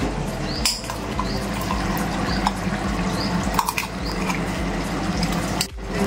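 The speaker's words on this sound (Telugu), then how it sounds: "ఇప్పుడు ఇది ఇక్కడ బాయిల్ అవుతుంది" Hot water bubbles at a boil in a cooking pot on the stove, a continuous close simmering hiss broken by a few sharp pops and clinks.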